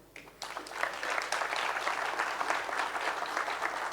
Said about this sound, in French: Merci de bien vouloir vous applaudir.